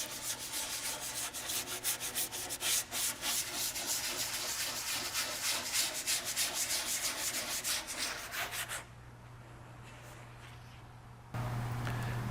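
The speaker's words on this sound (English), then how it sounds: "When you start sanding the capsule and the body, you want to make sure the surface has texture." Hand sanding scuffs the surface of a Vanspeed capsule for a Sprinter van in a rapid, rhythmic back-and-forth rasp that runs loud and close for about nine seconds before stopping, leaving a low hum.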